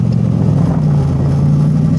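A 1964 ERA Shelby Cobra FIA replica's 1960s 302 V8, stroked to 347 with Wiseco pistons and solid lifters, runs at a steady, loud idle with a deep, even engine drone.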